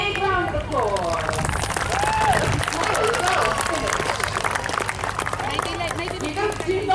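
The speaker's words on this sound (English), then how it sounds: "Big round of applause." Audience applause at a lively crowd show, a busy wash of clapping mixed with cheering voices and chatter, loud and near, with people talking and calling out over it throughout.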